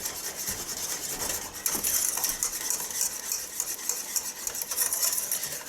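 A rubber scraper scrapes and stirs a pan of melted butter and sugar, a close, continuous scratchy rubbing with soft sticky swishes and no talking.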